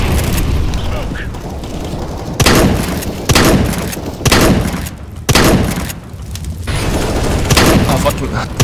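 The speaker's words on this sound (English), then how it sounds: "Flashbang. Firing. Grenade out." Loud gunfire and booming grenade blasts in a Counter-Strike: Global Offensive match, several heavy explosions about a second apart over continuous shooting and game noise.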